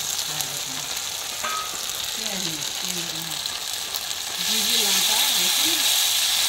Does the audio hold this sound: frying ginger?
yes